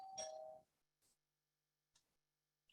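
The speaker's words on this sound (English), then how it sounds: "I'm going to get my doorbell." A home doorbell gives one short, bright chime at the start, then a few faint clicks and ticks follow in an otherwise quiet room.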